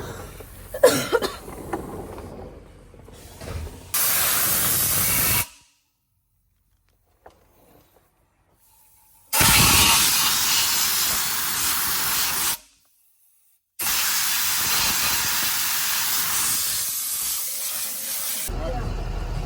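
Loud bursts of compressed air hissing, with cleaner sprayed, during a Cummins ISX15 engine rebuild, several seconds each, separated by short silences, with some scraping and clatter at the start.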